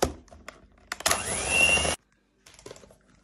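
An electric mixer whirs loudly for about a second while beating sugar with egg whites and yolks, then cuts out abruptly, bracketed by faint kitchen clatter.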